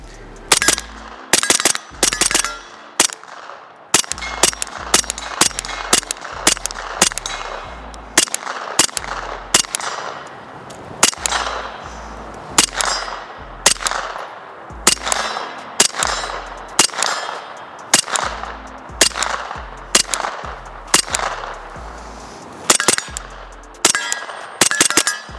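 A Nexus Evo bearing-delayed Scorpion with a suppressor fires repeatedly using supersonic rounds, sharp muffled cracks arriving singly and in quick bursts with metallic action clatter, loud and close over roughly twenty-five seconds.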